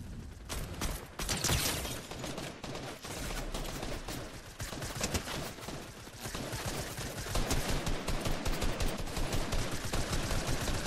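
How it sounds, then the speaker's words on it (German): Grenades and other weapons fired in the Fortnite video game, a dense continuous barrage of loud explosive blasts and rapid gunfire filling the whole stretch without speech. "Ich schieße einfach mal ein paar Granaten rein."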